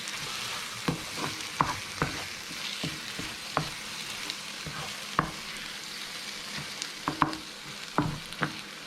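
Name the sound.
stirring mushroom duxelles in a frying pan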